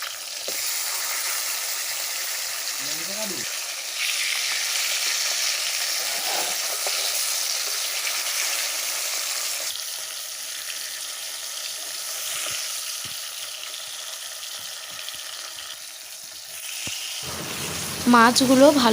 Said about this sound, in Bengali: ভালো করে ভেজে নেব মাছগুলো